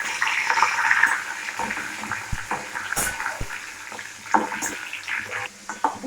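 Panch phoron, the Bengali five-spice mix, sizzles as it fries in hot oil in a pan. It makes a steady, fairly quiet crackle with a few scattered clicks and stirring sounds.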